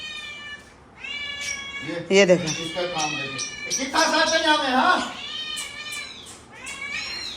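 A house cat meows repeatedly indoors, loud drawn-out cries close by, while people talk over and between them.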